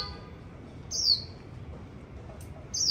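A tame pet bird on a rooftop bonsai garden in Hanoi gives two short, clear chirps about two seconds apart over a low, steady background hum.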